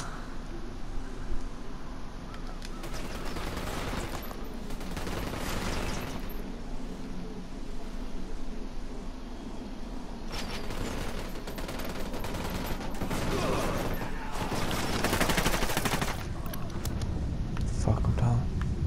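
Gunfire in the video game Ghost Recon Wildlands, with bursts of shots and blasts scattered through the stretch amid game ambience, while players talk over it.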